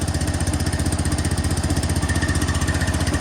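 A cold-started wood processor engine, muffler still ice cold, runs at a steady idle with a rapid, even chugging pulse, close and loud with no talking.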